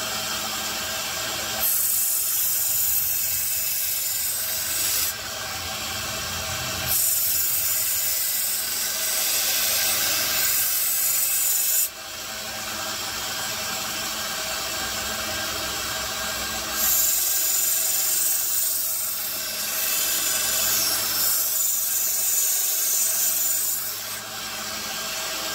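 A Damascus steel tanto knife edge is ground against a sharpening tool in repeated passes of several seconds each, a harsh abrasive hiss broken by short pauses, loud and close with no talking.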